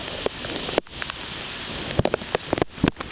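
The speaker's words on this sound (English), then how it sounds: "Now it's raining really hard." Heavy rain from Hurricane Isaac in southern Alabama pours down in a steady, dense hiss, with scattered sharper drops and gusty patters close by.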